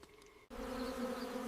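Bees buzz around a wild honey nest hidden in ancient wood, a steady close drone starting abruptly after a brief quieter hum and continuing alone without any voices.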